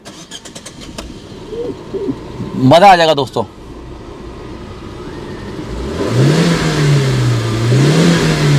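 A used petrol car with 58,000 km on it starts with a short cranking whir, then idles and revs up in rising and falling swells, while someone speaks briefly near the start.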